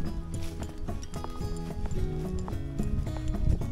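Endurance horses walk a trail in hot weather, hooves clip-clopping in a steady uneven rhythm close by, with tack jingling softly and no talk.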